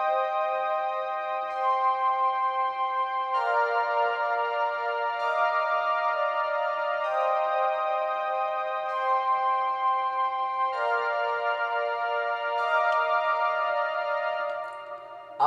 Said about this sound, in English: I used this preset called Airy Pad from the soft pad section.